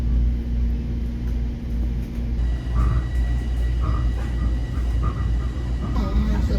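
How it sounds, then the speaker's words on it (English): A rumbling train interior carries a city-bound passenger, with steady low-frequency rolling noise throughout, a few faint tonal chimes or squeals, and occasional indistinct background voices. "Get me off this train."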